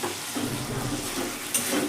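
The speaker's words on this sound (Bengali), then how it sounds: "সবজিটা দিয়ে মশলার সঙ্গে কিন্তু আমি নেড়ে দেবো" Boiled potatoes and yardlong beans being stirred with spices in a hot pan, a soft steady sizzle with light scraping, close and continuous.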